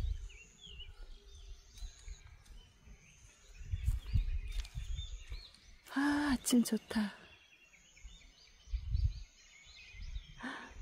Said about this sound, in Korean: 새소리 봐봐.